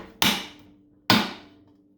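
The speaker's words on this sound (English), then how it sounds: "Maybe I just gotta smack it a little." Two sharp metallic blows, spaced about a second apart, strike a stuck electric motor on a variable drive gearbox to break it loose, each ringing briefly and decaying; close and loud with no talk.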